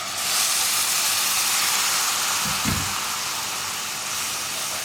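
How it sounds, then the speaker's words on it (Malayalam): Hot water poured into a pan of cooking kadala curry masala, giving a loud steady sizzling hiss that fills the whole stretch, with a brief low splash partway through. "നമുക്കിതിലേക്ക് ചൂടുവെള്ളം ചേർത്ത് കൊടുക്കാം."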